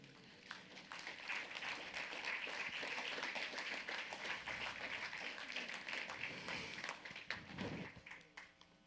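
Audience clapping at a church sermon: a sustained, fairly faint patter of many hands that rises quickly, holds steady for several seconds and then thins out.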